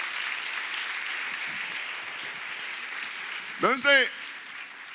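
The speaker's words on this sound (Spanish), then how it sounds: "denle ese aplauso como quiere dárselo al Señor" A church congregation claps in a faint, steady patter throughout. A voice briefly speaks over it near the end.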